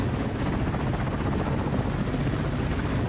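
Russian military helicopters fly in an assault force of about 30 aircraft. Their rotors make a dense, continuous, loud roar that fills the air, with no voices.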